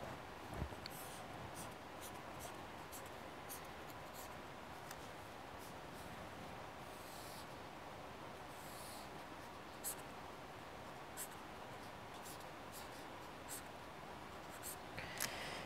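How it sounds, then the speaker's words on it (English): Pen or pencil drawing by hand on paper, sketching the elevation view of a bucket elevator with its casing, pulleys and belt; steady soft scratching strokes with small ticks, close and continuous, no voices. "if we draw the elevation view, then we're gonna have something like this."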